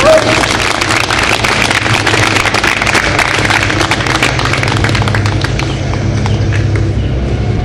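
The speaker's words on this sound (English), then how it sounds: "Let's give him a big round of applause as he comes back up here." Sustained applause from an audience at a Memorial Day gathering, welcoming a veteran back to the front; dense, steady clapping fills the whole stretch at close range, with a few faint voices mixed in.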